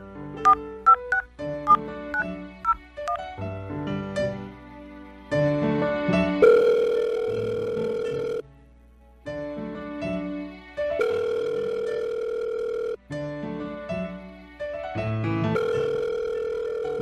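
Phone call tones from keypad dialing, a quick run of dial beeps followed by long steady ringback tones separated by short pauses, clear and alone.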